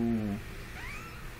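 A mother cat with newborn kittens gives a short, close meow followed by a faint, higher rising mewl, over quiet room background.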